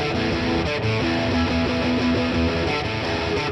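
Dense, continuous distorted electric guitar chords playing a steady riff, loud and full, with no voices.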